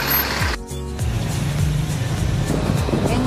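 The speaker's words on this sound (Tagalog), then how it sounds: "Yan yung mga tricycle dito." Motor tricycles in Ozamiz City pass close by, engines droning and rising, with one passing vehicle sweeping past briefly before the steady street traffic rumble resumes.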